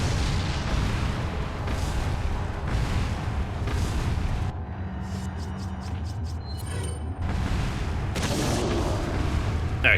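An incendiary grenade goes off in Resident Evil 4: a loud, sustained roar of blasts and rumbling fire, with a brief lull of crackling pops in the middle before the heavy rumble returns.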